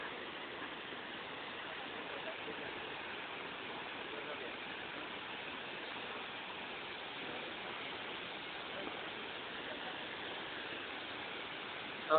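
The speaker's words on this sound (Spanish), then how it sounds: "Aquí nos encontramos en la Cascada de la Gloria." Steady broadband rush of the Cascada de la Gloria waterfall, a constant even roar held at one level from start to finish with no clear pauses or breaks.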